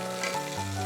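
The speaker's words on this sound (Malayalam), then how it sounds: "കുറച്ച് കറിവേപ്പില ഇട്ട് കൊടുക്കാം" Curry leaves crackle and sizzle in hot coconut oil inside a pressure cooker while a Kerala mutton curry is being made, a steady close frying hiss with a brief stir partway through.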